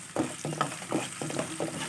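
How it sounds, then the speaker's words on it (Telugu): Chana dal and peanuts frying in a pan for pulihora, with rhythmic stirring scrapes about every third of a second over a soft sizzle, fairly quiet and close. "ఇవన్నీ ఫ్రై అయ్యేంత వరకు వేయించుకోవాలి"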